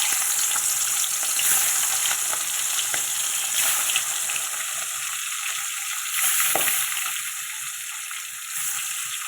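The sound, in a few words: shingi fish pieces frying in oil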